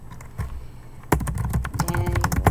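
Computer keyboard typing while writing a paper in Microsoft Word, a short burst of close, rapid key clicks that grows louder and denser after a quieter opening.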